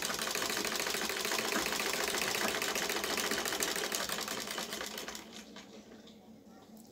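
A sewing machine runs steadily, stitching the folded fabric of a fatua shirt, a dense mechanical whir that holds strong for about five seconds before tapering and softening toward the end.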